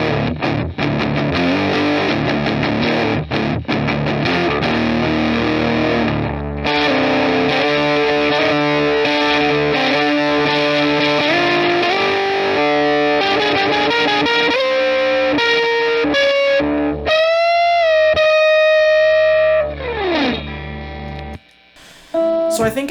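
A guitar loop through a Behringer HM300 Heavy Metal distortion pedal plays continuously, thick and saturated with sustained chords and melodic bends, ending with a few fading notes.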